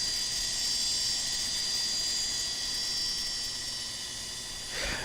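An aircraft engine runs at startup with a steady high-pitched whine and broad airy roar, holding nearly constant, then a brief low thump comes near the end.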